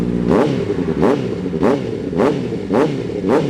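A 2020 Honda CBR650R fitted with an N Spec aftermarket exhaust revs up and drops back in six sharp, evenly spaced blips over a steady idle, loud and close.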